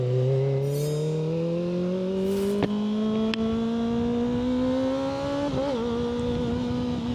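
An overloaded motorcycle rides along with its engine droning close and steady, the pitch climbing gradually as it accelerates under the heavy load, with no voices.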